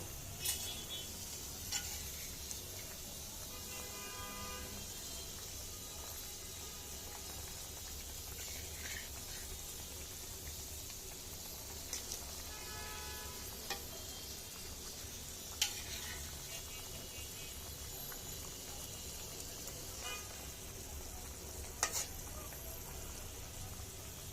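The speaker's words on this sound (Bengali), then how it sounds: "ভালোভাবে নেড়ে নেব ঝোল কমে আসলে মাছগুলো আস্তে আস্তে দিয়ে দিব" Rui fish simmering in a reducing tomato gravy, a steady soft sizzle all the way through, with a few scrapes of a spoon stirring the pan and no voices.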